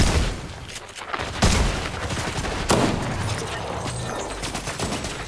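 Gunfire while shooting an enemy in a multiplayer shooter game: bursts of loud rapid shots, with two especially sharp cracks standing out amid a steady rattle of fire.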